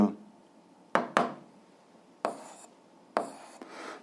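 Chalk or marker strokes writing out an algebra solution, a few short scratchy bursts separated by pauses, close and fairly quiet.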